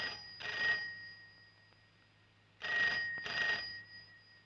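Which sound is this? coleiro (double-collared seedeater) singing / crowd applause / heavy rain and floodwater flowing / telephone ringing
telephone ringing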